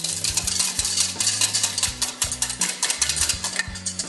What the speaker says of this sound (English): Whisk your sugar, your yolks and your eggs together.